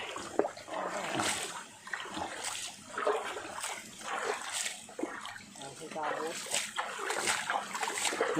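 Water splashing and trickling as it is scooped out of a pool at an outdoor site, with irregular sloshing pours repeating over several seconds, fairly faint and close.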